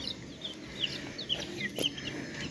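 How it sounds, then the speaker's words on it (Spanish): Broiler chickens raised for meat cluck in short repeated calls, several birds close by over a low steady background, with no voices. "miren a mis pollitos como están de enormes"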